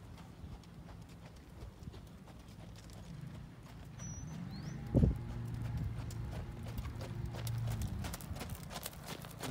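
Steady clip-clop of a horse's hooves under a rider in an arena, moderately close and rhythmic throughout, with a brief louder thump midway and a low background hum.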